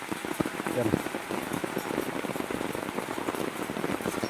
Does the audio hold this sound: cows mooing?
no